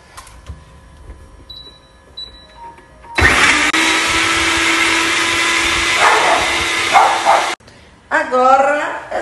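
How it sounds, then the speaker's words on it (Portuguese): A kitchen blender whirs loudly for about four seconds, blending milk and other ingredients, then cuts off. Brief talk comes before and after it. "Agora é só bater tudo no liquidificador."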